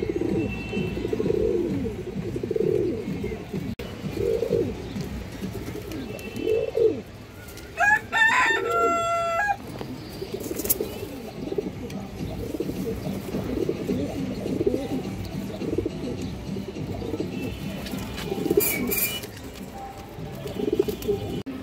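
Pair of green-necked pigeons of an old Bangladeshi line, with repeated soft cooing from several birds throughout, moderately close, amid other bird calls and a brief high chirping burst partway through.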